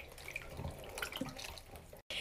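Water sloshes and trickles in a sink full of stress balls being washed, a close, continuous splashing that cuts out briefly near the end.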